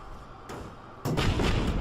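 Cannons fire in the airship battle game Airships, a quick pair of dull booming shots over a rumbling battle background, the second heavier and sustained, no talking.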